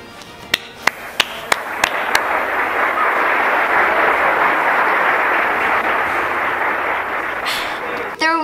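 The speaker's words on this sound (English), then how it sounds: "Please join me in giving these individuals a round of applause" A few separate claps start things off, then swell into sustained applause from a large audience that carries on steadily before fading at the end.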